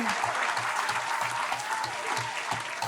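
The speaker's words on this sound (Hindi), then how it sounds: "जोरदार तालियां" Loud, dense applause from an audience at a poetry show, a steady wash of clapping that continues without a break.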